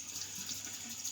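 Tap water runs steadily into a sink while a razor is rinsed, a continuous close hiss with no talking.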